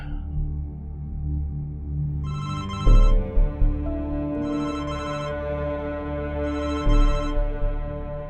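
A telephone rings three times, evenly spaced bursts of bright trilling bells over a steady low background hum, with soft thumps between rings.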